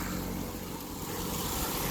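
A road vehicle's engine hums steadily at close range while pulling away, a continuous even drone without distinct revving or speech.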